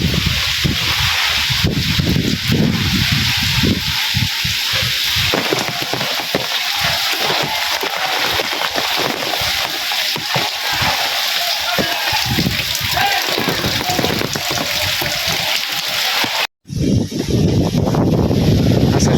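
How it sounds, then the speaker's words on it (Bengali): Strong cyclone wind with easing rain, a loud, dense, continuous roar of gusts and rainfall that cuts out briefly near the end before resuming, with a person speaking over it. "এখন বৃষ্টিটা একটু কমছে কিন্তু বাতাস প্রচুর পরিমাণে আছে"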